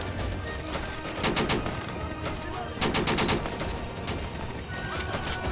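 Gunfire in the World War II shooter Easy Red II: dense, continuous bursts of rifle and machine-gun fire crackle throughout, with heavier volleys standing out in a loud, chaotic battle soundscape.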